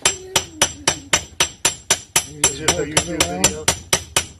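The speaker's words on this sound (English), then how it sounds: "I'm slowly hammering this on because I don't have a press, so I'm just being really careful with this socket." A hammer taps a socket to press a bearing onto the differential of a Mazda H-series transaxle limited-slip unit: about a dozen sharp, evenly spaced metallic strikes, close and steady, with faint tonal ringing and murmuring between blows midway.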